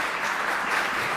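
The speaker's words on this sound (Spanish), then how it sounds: "Un aplauso para la profesora" Brief, dense burst of steady audience applause for a professor at a migration law workshop in Chile, filling the whole moment without a break.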